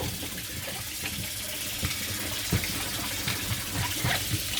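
Water trickles and splashes softly into durum wheat semolina dough being worked by hand, with faint irregular patters and a quiet, continuous wash.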